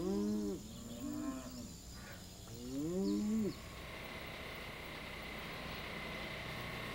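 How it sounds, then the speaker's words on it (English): On an old English island farm, cows being brought in for milking give several drawn-out moos in a row, fairly close. The lowing then stops and only a steady outdoor hiss remains. "Bringing in the cows has a rhythm as gentle as the peace and pace of life here in the"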